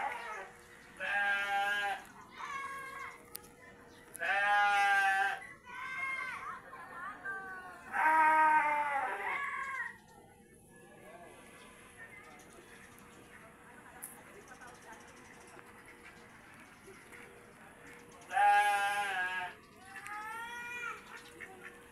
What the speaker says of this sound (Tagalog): Parang ano to, imported na kambing.